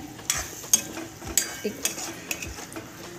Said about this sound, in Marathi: 5 मिनटं आपल्याला हे लो फ्लेमवर फक्त असं आपल्याला ह्याच्यामध्ये परतून घ्यायचं आहे